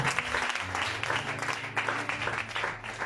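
A church congregation bursts into applause for the Lord, a dense continuous patter of many hands clapping at close range, with some voices mixed in underneath.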